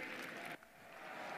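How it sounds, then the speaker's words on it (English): A church congregation claps together during a communion service, a dense wash of applause that cuts off abruptly partway through, leaving quiet room tone. "Let's give Jesus a bigger clap and a shout of praise."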